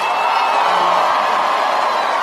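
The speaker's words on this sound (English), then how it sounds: "So I want to thank you all for your applause" A large crowd at the TPUSA AmericaFest 2025 convention applauds and cheers, a dense, loud, continuous roar of clapping and whoops.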